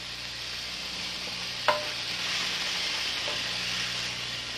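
Seafood with lemon juice sizzles steadily in a pan, a soft constant hiss with one sharp clink of a utensil and a faint later tap, no voices.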